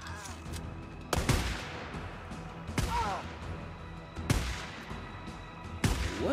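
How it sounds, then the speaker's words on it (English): Gunfire in the Days Gone video game, with four or five sharp loud shots spaced about a second and a half apart over a continuous game background. "Oh, she's shooting at Mike!"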